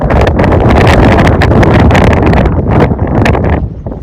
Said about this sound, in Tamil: காற்று ஒரு காற்று அடிக்குதுங்க.